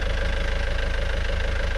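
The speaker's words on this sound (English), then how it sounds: "the engine's idling okay, doesn't seem like it's starving fuel or having any fuel issues" A boat's engine idles steadily up close, a loud, even rumble with a fast regular throb and no voices.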